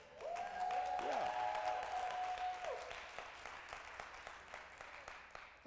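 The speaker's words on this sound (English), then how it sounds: "If you're going to clap or praise, go ahead and give it." Congregation clapping inside a church during a sermon, a sustained round of applause under a held tone and some voices that thins toward the end.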